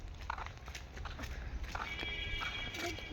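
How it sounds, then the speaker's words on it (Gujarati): A mare tethered in a park garden whinnies and shifts about close by, with a few hoof knocks and short bursts of movement over quiet background. "અહીંયા ઘોડીને એવું બાંધવાનું."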